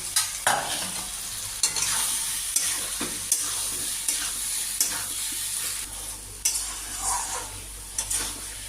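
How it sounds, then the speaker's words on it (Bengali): Shrimp and taro stems being fried in a pan with spices, a close, continuous sizzle broken by repeated scraping stirs of a utensil against the pan at irregular intervals. "এই কচুগুলো দিয়ে এবার আরও কিছুক্ষণ আমি বসাবো"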